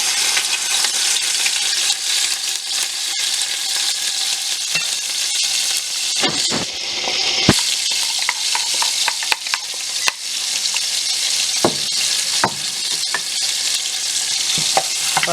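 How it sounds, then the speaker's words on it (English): Chopped pepper, garlic and onion frying in hot oil for a corn mutton dish, a steady loud sizzle throughout with occasional sharp clinks and scrapes of stirring, no talking. "So our oil is pretty much hot already. So we're gonna go ahead and start frying this up."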